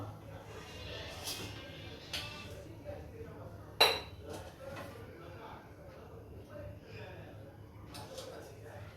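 One sharp metallic clink rings out amid faint clattering of a metal wok and utensils, while a person talks quietly throughout.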